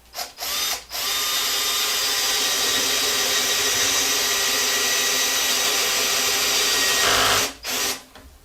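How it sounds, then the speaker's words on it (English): A cordless 12 volt Hercules drill bores a spade bit through two boards, a steady high whine running for about six seconds after a short start, then stopping with brief bursts at the end. "I'm going to try to go through both boards here"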